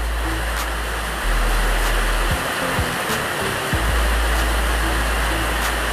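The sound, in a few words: rain falling in Brazzaville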